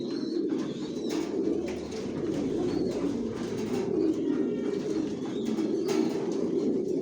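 Racing pigeons cooing steadily in a loft, a dense murmur of soft low coos from many birds layered together, with occasional faint chirps over a continuous background.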